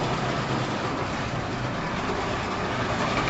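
Small model railway carriages running along the track, giving a continuous close rumble with faint rail clatter and no pauses.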